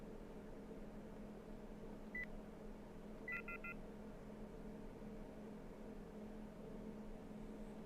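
Master alarm in the video game Kerbal Space Program: a single short electronic beep followed by a quick cluster of beeps, faint and tonal over a steady hiss of background noise.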